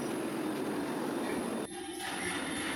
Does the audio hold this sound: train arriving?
yes